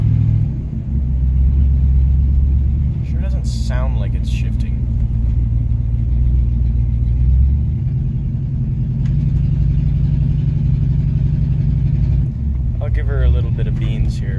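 An Oldsmobile engine with a new transmission rumbles steadily while driving, its low drone easing and rising as the gears change, with someone talking over it at times.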